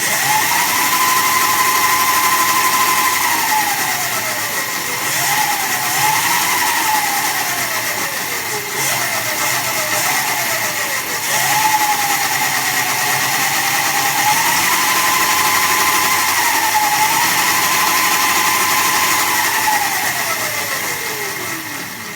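The electric motor of an Electric Monkey Gorilla minibike spins the wheel on a low battery, giving a loud, steady whine that rises and falls in pitch several times as the speed changes, with no talking.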